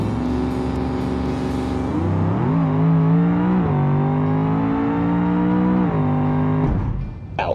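A car in the BeamNG driving game launches hard on nitrous, its engine holding a loud sustained roar that climbs sharply in pitch through a couple of gear-like steps before cutting off near the end.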